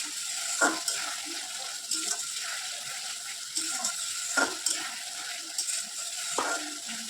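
Fried potatoes added to a simmering egg curry, a steady soft bubbling sizzle broken by several faint clinks and plops at irregular intervals, close by with no talk.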